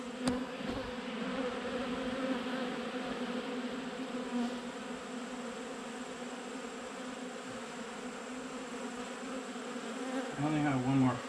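Honey bees from an open hive buzz in a steady, dense drone close to the microphone, holding at a constant pitch throughout, with a brief rustle near the start and a louder swell near the end.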